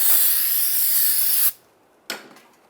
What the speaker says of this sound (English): we're just going to use a little brake parts cleaner. Clean off the back side of the rotor.